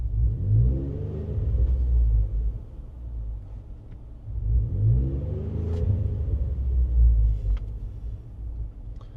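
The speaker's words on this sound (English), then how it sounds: "Just rev it up a little bit." Car engine with 215,000 miles and a misfire, revved in two rising pulses with deep, uneven rumble up close, no talking over it.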